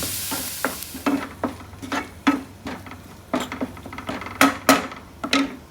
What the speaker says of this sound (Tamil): இந்த பேஸ்ட்டை போட்டு நல்லா வதக்கிறேன்